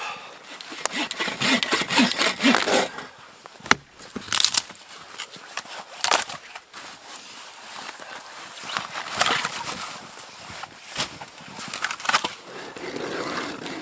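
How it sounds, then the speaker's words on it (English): A hand ice auger cuts through thick lake ice in late winter, grinding and scraping in uneven bursts with sharp crunching hits, close by and with no talking. "Ice is pretty deep at this time of year, late winter. Hopefully my auger reaches."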